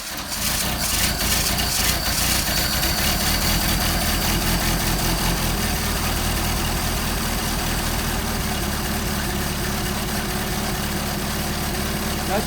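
An engine fitted with a Solex 44PHH carburettor runs at a steady, loud, close idle with a low rumbling throb that stays even throughout.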